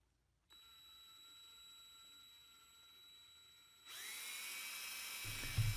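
A drill boring into dense red heart wood for a lignum vitae woodworking mallet: a steady high-pitched whine runs alone for about three seconds, then turns into a louder, harsher grinding as the bit bites in.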